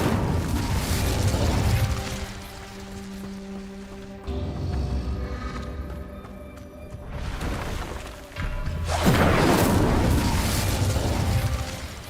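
Incendio fire spell in the video game Witch Simulator 2023: booming, crackling blasts of fire, with loud bursts around the start and a heavier one near nine seconds, over a low game music bed.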